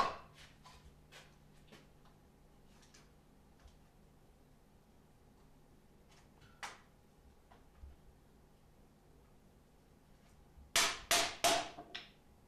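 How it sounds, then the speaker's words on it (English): Hammer blows strike a dry birch cant on a sawmill carriage, driving it down onto the lower dogs: scattered light taps and clunks early on, then a loud burst of four or five sharp, ringing strikes near the end. "It is dry birch, so he hammers the cant down"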